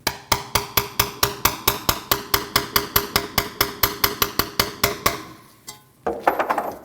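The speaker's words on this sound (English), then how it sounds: "I'm just using a typical hammer and a spacer from the tool that removes your bearing to install the new seal." Rapid, regular hammer blows ring out on a metal spacer, driving a new wheel bearing seal into a 2003-2008 Subaru Forester rear hub, about two dozen sharp strikes in a steady rhythm, followed by a brief pause and some clattering.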